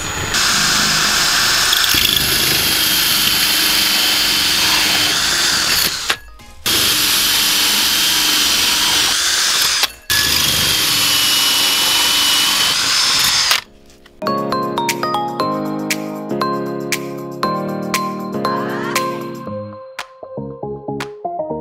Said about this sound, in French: Maintenant on perce les trous avec la scie cloche de 68 mm